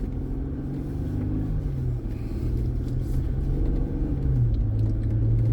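A car driving along a road near Esperance, Western Australia, with a continuous low engine and tyre rumble heard from inside the cabin, rising slightly toward the end.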